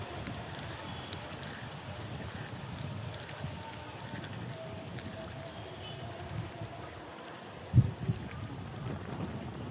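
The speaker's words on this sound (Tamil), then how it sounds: "காற்று ரொம்ப ஓவரு, அதனாலவே ஃபுல்லாக தண்ணி எல்லா இடத்துலையும் வத்திருச்சு." Strong wind blows outdoors at a fishing spot, a low, constant rumble buffeting the microphone, with one sharp knock late on.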